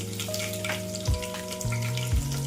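Fenugreek seeds and a cut green chili fry in hot oil for a gutti vankaya (stuffed brinjal) dish, giving a steady close sizzle with bursts of crackle and a few low sliding scrapes or tones.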